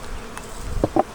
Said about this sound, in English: this hive up here only had 2 frames of bees